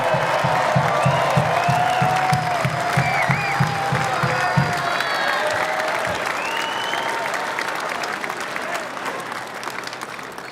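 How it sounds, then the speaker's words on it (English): A large crowd at an FDNY Medal Day ceremony applauds steadily, dense clapping filling the space with a few whoops and cheers mixed in, fading slightly toward the end. "how about a big round of applause for all of this year's Medal Day winners?"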